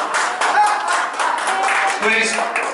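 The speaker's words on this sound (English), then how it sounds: "Please. No applause." Scattered clapping breaks out among the audience at a tense city council meeting, mixed with overlapping voices and crowd noise, fairly close and uneven in rhythm.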